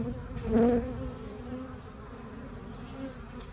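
Close, steady buzzing of many bees, swelling briefly near the start and then holding a constant drone with no talking.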